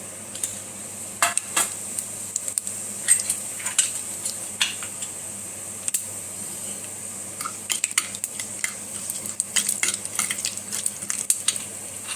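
Mustard seeds and urad dal crackle and pop in hot coconut oil, a continuous scatter of sharp, irregular spits and ticks over a faint sizzle, close and without any talk.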